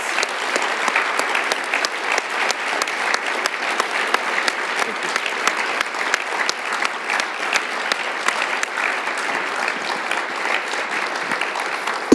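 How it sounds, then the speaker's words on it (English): Audience applause follows the introduction of a speaker at a 2021 presidential lecture, a steady, dense clapping from a large room that holds at an even level for the whole stretch without talk over it. "Let's give Ted a big round of applause."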